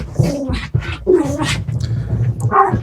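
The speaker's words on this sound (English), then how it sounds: "there's two of me little dogs that decided to upstage me again. And they're play fighting under the table." Two small dogs play fight under a table nearby, with close growls, whines and yips running continuously.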